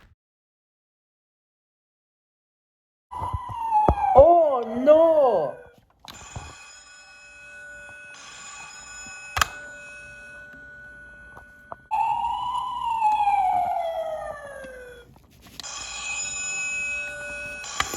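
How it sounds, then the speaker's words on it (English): A fire alarm sounds in an animated Skarloey Railway story, coming as a series of electronic ringing and wailing tones in separate bursts, with a voice exclaiming in between. "Just then, the fire alarm started ringing."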